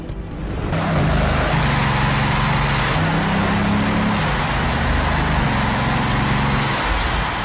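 A 1,001-horsepower Bugatti Veyron engine runs in a test chamber with the bare chassis on rollers, giving a loud, steady, close roar that swells slightly after the first second and holds throughout.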